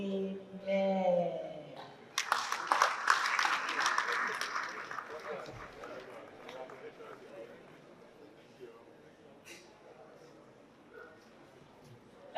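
Applause from the audience at a ceremony marking a secretary general's five-year tenure. It swells after a voice at the start, holds for a couple of seconds and then thins into scattered murmurs.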